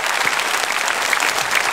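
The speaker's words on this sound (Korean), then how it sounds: "2020년 우리에게 새해를 허락하신 하나님께 감사와 영광의 박수를 돌려드립시다." A church congregation claps in thanks during a New Year service, a brief, steady and fairly loud burst of many hands.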